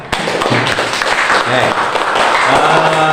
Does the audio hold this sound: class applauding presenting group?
yes